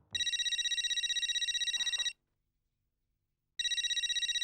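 A telephone rings with an incoming call, a steady electronic trill lasting about two seconds, then a pause of silence before the ringing starts again, clear and close.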